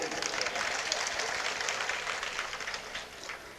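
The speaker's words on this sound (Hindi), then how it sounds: "तालियों के गड़गड़ाहट बज गए।" A crowd at a religious bidding auction in India claps steadily throughout, a dense, even wash of many hands that eases slightly toward the end.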